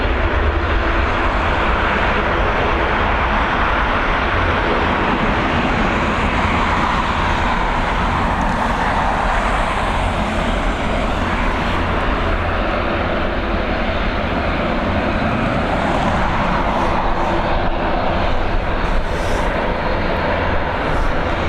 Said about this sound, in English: we've got another Boeing 737 again, operated by Ryanair, this time coming in from La Rochelle